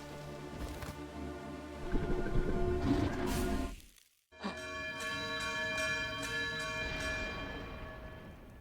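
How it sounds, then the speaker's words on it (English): Bell ringing inside the Outer Wilds: Echoes of the Eye game, a sustained metallic tone with long harmonic overtones that briefly cuts out to near silence before the ringing resumes steadily at moderate level. "bell's still ringing."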